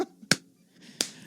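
Two sharp, isolated hand claps about seven-tenths of a second apart, close and crisp, marking the start of a podcast recording, with near silence between them.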